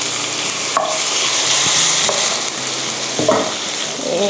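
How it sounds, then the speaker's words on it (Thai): Pork stir-fries in sauce in a pan for Japanese-style sukiyaki, with a steady sizzle and several scraping strokes of the spatula close by. "แล้วก็ผัด ผัดให้หมูสุกนะคะ"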